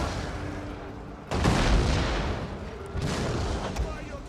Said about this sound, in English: Ooh, some big mortar hits over here.